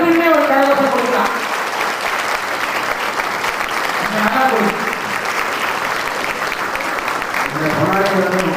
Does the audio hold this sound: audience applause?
yes